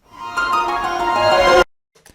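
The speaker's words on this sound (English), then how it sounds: "They're like a strings patch and they have a lot of white noise in them already" Two layered Labs strings patches thick with white noise swell in a steady crescendo, a sustained tonal pad with an airy hiss that grows louder for about a second and a half, then cuts off abruptly.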